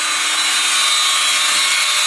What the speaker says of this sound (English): Cutting out sockets for the back box, for the wiring.